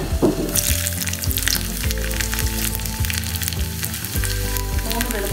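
Lentils fry in hot oil in a pan, giving a loud, continuous sizzle with crackling spatters and occasional stirring scrapes.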